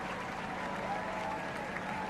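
A crowd of 20,000 outside Buckingham Palace at the Diamond Jubilee celebrations applauds in a dense, steady wash of clapping, with a voice talking over it.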